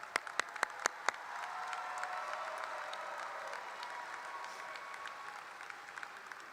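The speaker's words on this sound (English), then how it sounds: "let's give them a round of applause" Applause at a high school Class of 2025 graduation ceremony, opening with a few sharp individual claps before a full crowd joins in a steady, fairly soft roll of clapping that carries on evenly.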